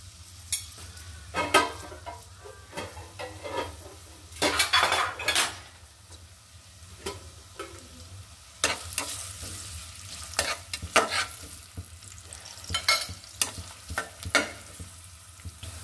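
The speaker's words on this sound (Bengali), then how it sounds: "পেঁয়াজ কুচি দিয়ে দিচ্ছি, 2টো রসুন।" Chopped onion and two cloves of garlic frying in a pan, with steady sizzling under repeated scraping and clinking stirs of a utensil against the pan, close and fairly loud with no talk.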